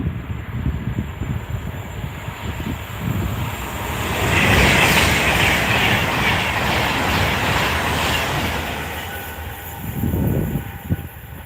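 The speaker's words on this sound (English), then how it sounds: "There's another Pendolino." A Pendolino train passing on the West Coast Main Line: a loud, sustained rushing roar that swells in the middle as the train goes by, then fades back toward a rumble.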